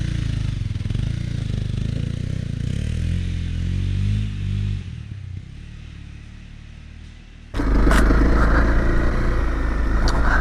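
A Honda CRF dual sport motorcycle rides an abandoned snowy logging road, its engine droning steadily up close, dipping briefly, then jumping to a loud, harsh revving roar for the final seconds.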